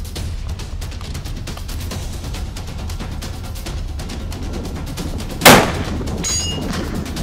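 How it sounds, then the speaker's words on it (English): A Beretta BRX1 rifle fires at a steel gong on an open range, one sharp loud crack rising from steady wind and background noise, followed moments later by a faint high metallic ring. "myself and Bueller have shot on the gong at 400 without missing."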